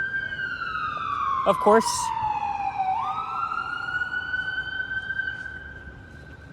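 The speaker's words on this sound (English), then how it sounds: "And have our siren." An emergency vehicle siren wails on Wellington Street in downtown Toronto, its tone sweeping down and back up over steady city traffic noise, with a brief spoken remark near the start.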